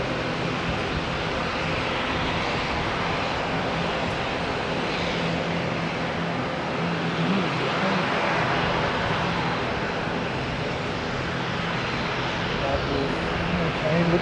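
An incoming ATR turboprop at Auckland International Airport gives a continuous, even engine drone at moderate loudness, steady across the whole stretch with a person talking over it.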